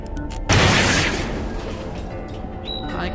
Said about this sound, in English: Press Q. To throw the bomb.